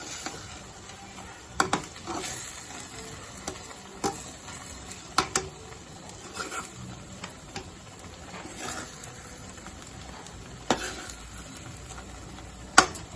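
Goat brain fry being stirred in a pan, soft sizzling under irregular scrapes and taps of a spatula, fairly quiet and close with no speech.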